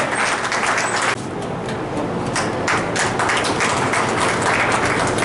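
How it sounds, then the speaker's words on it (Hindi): An indoor audience at a Lions district governor's visit and school awards event in Nagda claps loudly and steadily for several seconds, with dense, sustained hand claps and no voices over them. "बहुत सारी जोरदार तालियां महेश के लिए"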